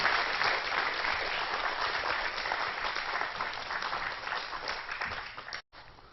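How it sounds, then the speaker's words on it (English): A church congregation gives a steady round of applause during a sermon, a moderately distant, even wash of many clapping hands that holds for several seconds before cutting off abruptly near the end. "Go ahead and give them a round of applause."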